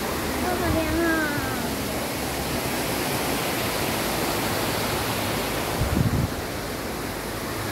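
Water pours down the Shenglong waterfall in Wulai, Taipei, making a constant broadband rush that fills the whole stretch, with faint voices briefly audible near the beginning and again close to the end.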